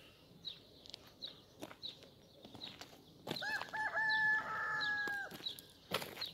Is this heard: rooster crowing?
yes